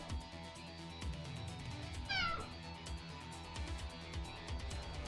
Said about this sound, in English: You're trying to meow. What are you meowing for?